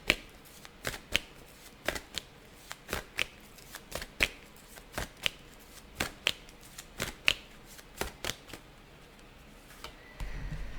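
Tarot cards are shuffled and drawn by hand in a quiet room, with sharp, crisp card snaps and riffles repeating roughly every half second, close to the microphone and with no talk.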